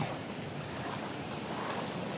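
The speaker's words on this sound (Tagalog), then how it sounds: "Parang lumakas ang tubig talaga ngayon." Strong rushing water at a forest waterfall makes a steady, dense hiss and roar that stays level throughout, fairly soft and distant, with no speech.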